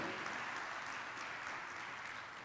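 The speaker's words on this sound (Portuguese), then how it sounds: "Aplaude ele aí se essa é verdade na sua vida." Faint, distant applause comes from a church congregation during a Sunday family service, a soft continuous patter of many hands that stays low and even before tapering slightly at the end.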